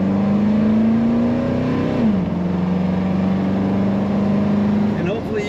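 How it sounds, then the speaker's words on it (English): A 1979 Chevrolet K1500 truck with an automatic transmission drones loudly and steadily from its exhaust, its pitch rising gradually, then dropping as it shifts and settling into a lower hum. Speech also registers faintly. "hopefully you can hear how great that exhaust sounds"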